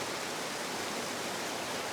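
A crystal-clear waterfall in autumn woodland pours with a steady, dense roar of falling water, loud and unbroken throughout with no voices.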